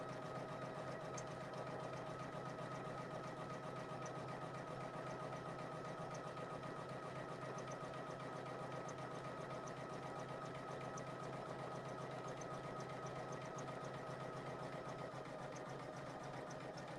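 A Poolin single needle embroidery machine stitches continuously with a rapid, even mechanical chatter and hum, quiet and steady for the whole stretch with no talking.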